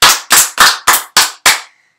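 Six loud, evenly spaced claps from a single pair of hands, sharp and close, with a brief ring after the last.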